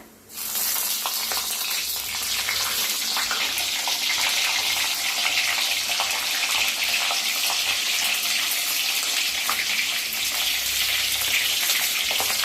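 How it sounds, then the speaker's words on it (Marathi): Green chillies dropped into hot oil with cumin seeds, giving a loud, unbroken hissing sizzle with faint crackles running through it and no talking. "जिरं चांगलं तडतडायला आले तर त्याच्यातच टाकूया मिरच्या"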